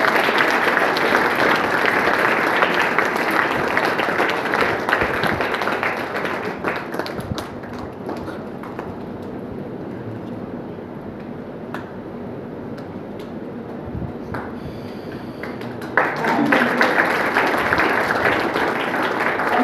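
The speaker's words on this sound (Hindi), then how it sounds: "तालियां नहीं रुकनी है।" A crowd applauds at an award ceremony for a monthly oratory contest, clapping loudly and continuously for about twenty seconds. It dips slightly in the middle, then swells again near the end, with no speech over it.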